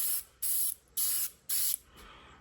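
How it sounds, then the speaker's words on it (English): Four short bursts of airbrush spray hiss with a wide spray pattern, painting a craftsman model kit, evenly spaced and close, each lasting about a quarter second, then a faint lingering hiss. "this one does have a really wide spray pattern"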